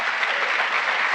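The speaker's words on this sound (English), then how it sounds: "they're all clapping at him" Audience applause at a White House press briefing: a dense, steady patter of many hands clapping, loud and continuous from start to finish with no voices over it.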